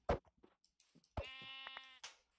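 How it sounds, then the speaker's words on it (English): Sheep in the Minecraft video game give a sustained, wavering bleat after a few sharp clicks and thumps, then a short softer burst follows. The sounds are close and clear, with no one talking. "I gotta kill another sheep."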